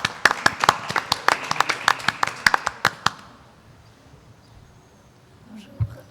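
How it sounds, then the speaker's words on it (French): A small television studio audience applauds a weightlifting champion with sparse, uneven claps for about three seconds, then the room falls quiet. "on peut même applaudir"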